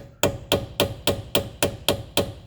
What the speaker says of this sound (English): take a flat screwdriver, a small one, with a small ball peen hammer or any hammer for that matter, and just tap at the ear